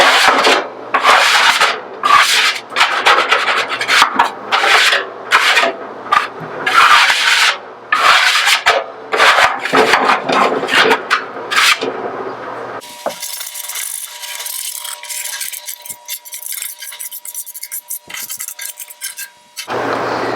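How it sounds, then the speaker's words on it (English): Rust and food residue are scraped off the inside of an Old Country Pecos offset smoker in loud, repeated rasping strokes with metallic clatter, then a quieter stretch of lighter scraping. "when we have most of it all scraped up"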